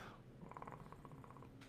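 A cat purrs or growls very quietly, giving a faint, soft, pulsing rumble with a rapid fluttering rhythm, close by in a calm room.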